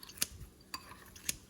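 Scissors snip through kimchi in a home kitchen while making tofu with kimchi, giving three sharp, separate metallic clicks spaced about half a second apart, close and fairly quiet, with no talking.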